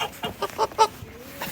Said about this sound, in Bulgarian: Има и петелче.